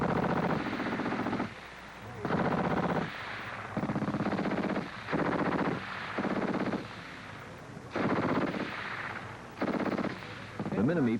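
A C9 Minimi light machine gun fires sustained bursts of rapid automatic fire, each lasting about a second, separated by brief pauses. The shots are loud and close, and a shouted command is heard at the end.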